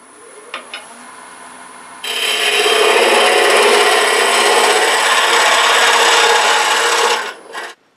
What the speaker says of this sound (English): I'm hollowing parallel grain, parallel with the axis, just like a typical spindle